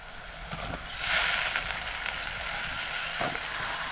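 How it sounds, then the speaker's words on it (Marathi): Eggplant pieces hit hot oil in a pan and are sautéed for a Konkan dried-shrimp brinjal dish, a close, steady sizzle that swells after the first second and keeps hissing evenly. "ही वांगी अशी तेलात चांगली परतून घ्यायची"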